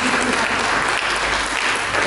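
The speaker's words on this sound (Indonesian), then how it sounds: "Mari kita berikan tepuk tangan bagi Yesus." A church congregation applauds during a sermon, a loud, close and continuous roar of clapping from a large crowd that stays level throughout with no pause.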